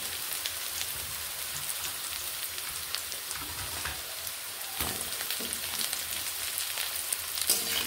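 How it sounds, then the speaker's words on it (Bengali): Potatoes added to fried onions in a pan sizzle steadily under a continuous hiss, with faint scraping of stirring and a few louder clinks near the end. "আলু দিয়ে এভাবে নেড়ে নিচ্ছি।"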